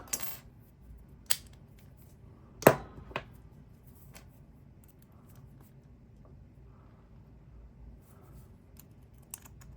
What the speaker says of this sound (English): So I'm just looking for the pins that stick out, and I just lift them a little bit at a time.